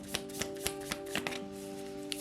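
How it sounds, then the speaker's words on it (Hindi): Tarot cards are shuffled by hand in a quiet room, giving a series of soft, quick riffling snaps at uneven intervals over a faint steady hum, close and fairly quiet. "शफल कर लेते हैं।"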